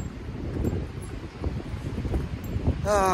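Wind buffets a microphone with low, rumbling gusts, steady and close, ending in a brief burst of higher-pitched noise.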